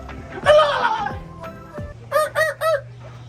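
A person imitates a turkey call with their voice, a long warbling gobble followed by three short, sharp yelps in a row, fairly loud and close.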